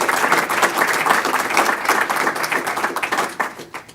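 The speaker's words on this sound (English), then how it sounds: "a big round of applause for the 12 winners" Audience applause for a dozen water-technology award winners at an international water week event, a dense, steady wash of many hands clapping for about four seconds, fading slightly at the end.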